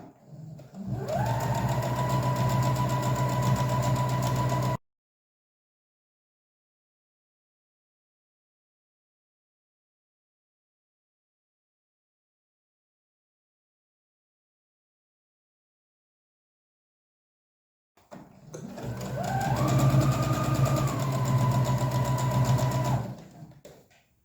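A sewing machine stitches around the edge of fabric for a scissors holder, running in two steady bursts of about five seconds each with a long stretch of silence between them.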